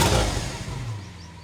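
Lamborghini Veneno Roadster engine, heard from behind the car in a residential neighborhood: a loud, deep roar that opens at full strength and then tapers off steadily over about a second and a half, with no voices.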